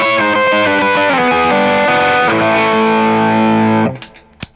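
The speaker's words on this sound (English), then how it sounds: "They make a real great overdrive sound." Electric guitar driven through Vemuram and Klon overdrive pedals stacked together, a loud, saturated run of sustained notes and chords that cuts off near the end into a few sharp clicks.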